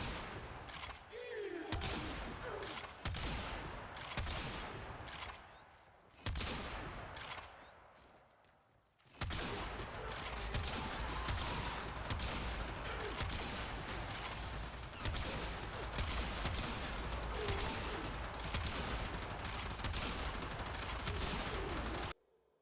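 The Tombfinger kitgun in Warframe fires explosive shots in rapid repeated bursts, sharp blasts coming one after another, with a brief lull partway through before dense, continuous gunfire resumes and then stops abruptly.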